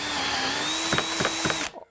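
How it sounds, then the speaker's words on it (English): A power drill whines steadily up close boring 8mm hinge holes through a spring-loaded jig, with a few clicking knocks near the end before the motor cuts off abruptly. "You just come over to here and drill the 8mm."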